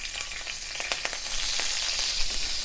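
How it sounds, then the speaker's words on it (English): Chopped green chilies sizzle and crackle in hot oil in a wok, a steady frying hiss with scattered sharp pops, close and fairly quiet, with no voices. "Once the oil heats up, just add the chopped green chilies."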